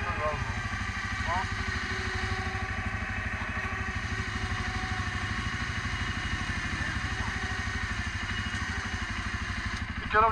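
A quad ATV engine, a CF 520L or Linhai Hytrack 500, runs steadily in a sandpit with a low pulsing drone and mild clatter. It stays fairly close throughout while a person speaks over it.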